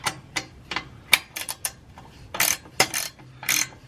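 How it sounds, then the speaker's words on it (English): A 9/16 ratcheting wrench tightens exhaust pipe bolts on a G35 during an art pipe install, giving irregular bursts of sharp ratchet clicks, close and fairly loud, with brief pauses between strokes. "Just slowly tightening everything up. I'm using a 9/16 ratcheting wrench."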